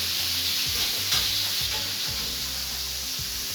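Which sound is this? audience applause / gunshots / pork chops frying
pork chops frying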